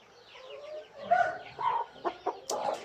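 A dark blue Brahma hen clucking close by, with a series of soft, irregular clucks and brief throaty calls in a quiet backyard setting.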